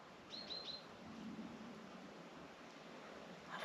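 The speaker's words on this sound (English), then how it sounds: "I would bet on some kind of bird," A bird calls faintly outdoors during a slow nature walk: a quick series of three or four high chirps near the start, then soft rustling and quiet ambient hiss.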